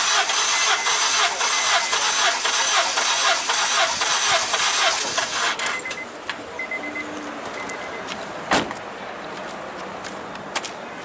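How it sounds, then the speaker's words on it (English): A car engine cranking over on the starter during a compression test, a loud rhythmic whirring grind for about five seconds, then stopping and leaving quieter workshop background with a sharp knock. "I'm going to crank the engine over for 10 cycles."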